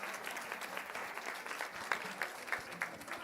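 Audience applause at a women in finance and insurance summit, a dense patter of clapping hands filling the room, steady and fairly close, with a few sharper individual claps standing out.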